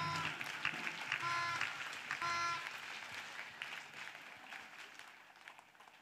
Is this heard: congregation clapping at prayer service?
yes